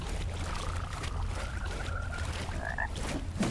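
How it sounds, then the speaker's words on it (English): A frog in the game Mortal Shell croaks in a couple of drawn-out calls over a steady low rumbling ambience, with a brief higher chirp near the end; no one speaks. "Frog is a jerk. He poisoned us."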